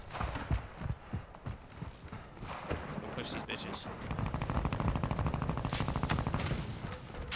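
Gunfire in Call of Duty: Warzone 2.0 on the Ashika Island map, with sharp scattered shots early, then dense rapid automatic fire and clattering bursts, mixed with a player's talk.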